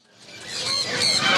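A parrot at a Karachi parrot market lets out one harsh, honking squawk that swells in loudness over about a second and a half, close and alone.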